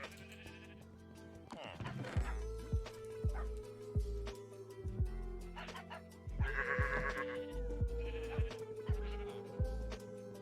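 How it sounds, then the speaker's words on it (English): Minecraft sheep, red ones in a modded survival world, bleat repeatedly with wavering calls that overlap, mixed with short clicking game sounds at moderate level. "Oh my god, look at all those red sheep"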